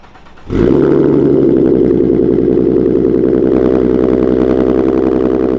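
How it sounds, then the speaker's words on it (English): A Mustang GT350 V8 with a Ghost Cam tune fires up from cold abruptly after a quiet moment, then settles into a loud, steady, burbling idle with a lumpy, throbbing rhythm. "That beautiful, beautiful cold start"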